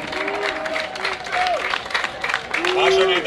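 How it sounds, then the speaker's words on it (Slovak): Festival crowd applause at Slovan Summer Fest 2008, a dense, steady wash of clapping with voices and shouts rising through it, loud and continuous across the clip. "Zaslúžite si potlesk!"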